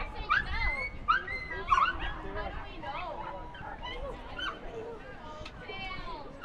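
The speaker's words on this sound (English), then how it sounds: "we have dogs who are loose" Several loose wiener dogs barking, yipping and whimpering at a racetrack, with excited, overlapping barks throughout, mixed with crowd noise and people talking.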